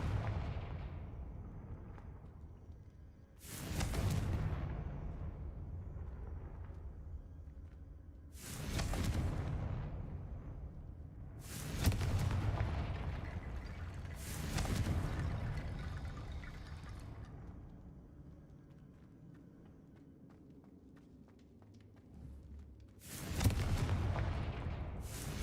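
Fiery Confringo blast spells exploding in Hogwarts Legacy, five heavy booming bursts spaced a few seconds apart, each with a rumbling decay, loud and close with no talking.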